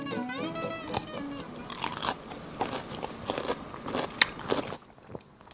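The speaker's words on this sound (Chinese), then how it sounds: "小酸黄瓜，尝一下啊！" Someone bites into and chews small sour pickled cucumbers up close: a sharp crunch, then a series of wet, crackling chews and squelches spread irregularly over several seconds.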